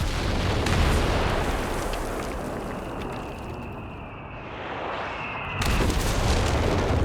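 A howitzer barrage booms in Company of Heroes 3, heavy rumbling blasts rolling together loudly, easing for a few seconds before another burst of explosions crashes back in.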